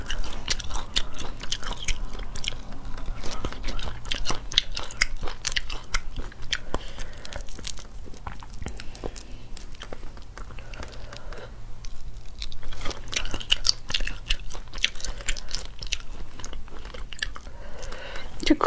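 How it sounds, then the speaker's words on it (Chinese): Shell-on shrimp-like seafood is chewed up close during a spicy noodle mukbang, with crunchy bites and wet mastication running continuously and loudly through the clip. "这壳你可以拔，也可以不拔，带着皮吃也好吃，还补钙。"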